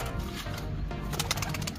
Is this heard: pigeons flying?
yes